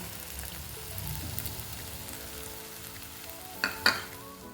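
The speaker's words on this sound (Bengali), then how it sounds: "এটাকে এখন ভালো করে কষিয়ে নেব" Spice masala mixed with water sautés in a pan for a fish curry, a soft steady sizzle with low bubbling, then two sharp utensil clanks near the end.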